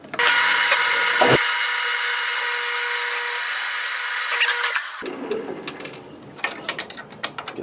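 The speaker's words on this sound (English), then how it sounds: "I'll just chamfer off this edge here." A power tool chamfers the edge of a metal bushing sleeve removal tool. A loud, steady, high grinding whine runs for about five seconds, then stops. Clattering and handling of metal parts follow, with no voices.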